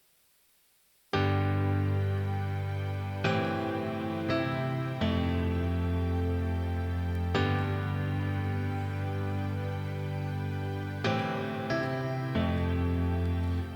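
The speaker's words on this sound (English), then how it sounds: "So I have a piano sound dialed in that kind of goes like this." A keyboard piano patch on a worship leader's keys rig plays sustained chords, each struck note ringing out with long decay, new chords entering every few seconds after a brief silent start.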